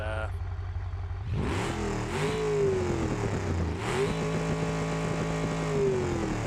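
A turbocharged car engine with a junkyard turbo and nitrous in BeamNG.drive kicks in loudly after a quieter start, then revs up and down in repeated swelling pulls with a rising whine.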